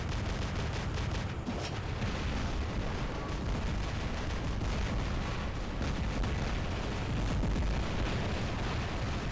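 Robot weapons in the War Robots game fire constantly, including plasma, with dense overlapping blasts and booming impacts that keep up a steady, loud roar throughout.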